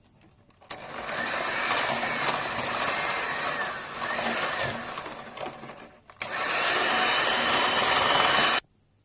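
An electric mixer beats cake batter after oil and milk are added, a loud steady motor whir running in two long bursts with a short pause between them, starting and stopping abruptly.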